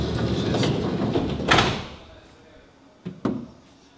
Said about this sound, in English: I'm so happy to show you how I can close the door with one finger